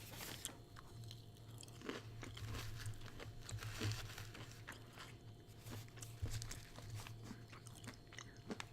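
Crunchy chewing of crispy fried pickles, close and steady, with repeated bites and crackling crunches across the whole stretch and no talking.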